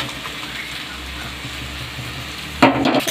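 Boiled lentils are stir-fried in a hot pan with chopped green chilli, a continuous close sizzle with stirring, ending in a sudden louder burst of hissing.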